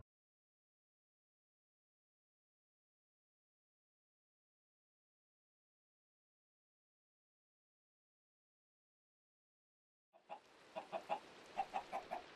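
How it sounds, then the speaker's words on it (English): A chicken on a Minecraft survival server clucks in a short run of quick, faint bursts that come only at the very end, after a long stretch of silence. "first thing I hear is a damn chicken"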